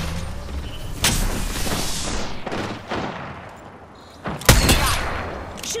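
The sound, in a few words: gunfire in the video game Apex Legends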